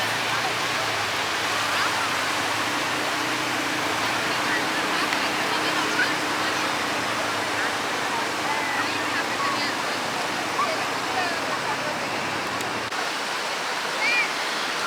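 Sea waves roll and wash at Nagaon Beach as the tide rises, forming a broad, steady surf roar that holds nearly unchanged and fills the scene.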